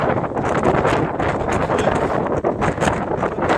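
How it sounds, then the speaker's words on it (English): Strong wind buffets a mountaintop peak overlooking the Atlantic and Caribbean, roaring loudly and continuously across the microphone in rough gusts. "It's very windy."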